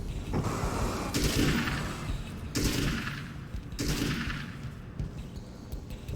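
A gun firing in the action game Alan Wake's American Nightmare, with four or five loud, close bursts of rapid shots, each ringing out briefly before the next, and no talking.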